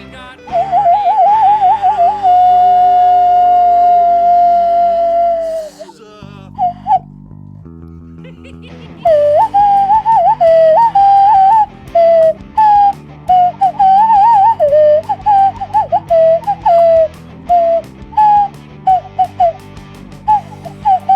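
A whistle bought in Costa Rica blown loudly and close, first one long sustained tone, then a run of short, warbling, melodic toots that stop and start.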